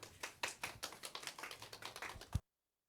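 Audience applause welcoming a speaker at an Incheon education forum: a short, faint, fairly sparse patter of claps that stops abruptly after a couple of seconds.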